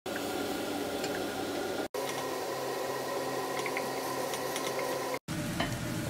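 Onion and pepper sauté in a pan with a constant close sizzle and faint crackles. Two brief cuts break the sound into three stretches, and no one speaks.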